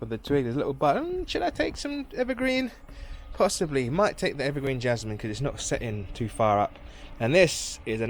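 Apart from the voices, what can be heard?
No everyday noises stand out.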